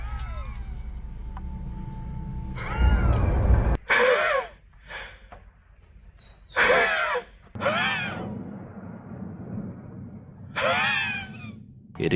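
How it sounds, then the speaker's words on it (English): Labored, ghostly gasping breaths in a horror film scene as an empty wheelchair rolls into a room on its own, coming in several short, strained bursts separated by pauses over an eerie low background. "We hear very labored breathing"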